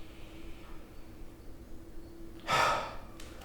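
A single forceful exhale bursts out during a body-awareness workshop demonstration, a breathy rush of air lasting about half a second after a quiet stretch with a faint steady hum.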